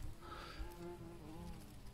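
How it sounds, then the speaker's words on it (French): Bumblebees and honeybees buzzing in a warm summer vegetable garden among tomato plants, a soft close hum that wavers in pitch as insects drift past, faint and continuous. "Puis on entend les bourdons, les abeilles qui reviennent avec la chaleur"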